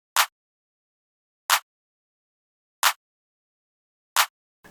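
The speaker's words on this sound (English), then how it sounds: "I played this very simple clap pattern" Four sharp, identical claps from a simple trap-style pattern programmed in Ultra Beat for a beat, evenly spaced about 1.3 seconds apart with dead silence between hits.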